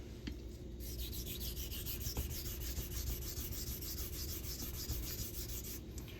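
A vintage straight razor is stroked steadily along a coticule hone, giving a continuous close scraping rub with faint repeated stroke pulses and no voices.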